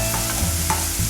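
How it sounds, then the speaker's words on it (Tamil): Ground ragi paste being sautéed in oil on a tawa, with a few soft spatula scrapes and a low steady frying sizzle over a short moment, close and moderate in level. "இதை நல்லா வதக்கி விட்டுக்கலாங்க எண்ணெயில்."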